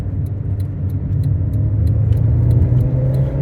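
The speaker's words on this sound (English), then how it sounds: "Can't help myself but have to go on the roundabout and go round it as quickly as I can." A car taken quickly around a roundabout, its engine giving a steady, loud low rumble heard from inside the cabin, with faint small rattles and no voices.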